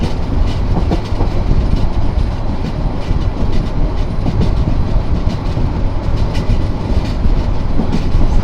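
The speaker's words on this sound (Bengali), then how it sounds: "আর ট্রেন কিন্তু বিশাল কার্ভ নিয়ে যাচ্ছে।" The Paharika Express runs through a wide curve, a steady loud rumble of wheels and carriages that rolls on without pause, with light rhythmic clatter.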